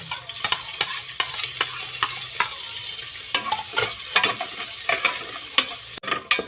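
Garlic sautéing in a pan for a mung bean dish, with a steady hiss of frying and repeated sharp scrapes and taps of a utensil stirring at an uneven rhythm, close by and with no one talking.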